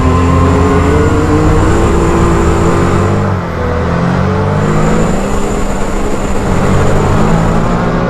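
A Can-Am Maverick R UTV running in four-wheel drive gives a loud, steady engine roar with a sustained drivetrain whine, holding constant for the whole stretch with a brief dip midway.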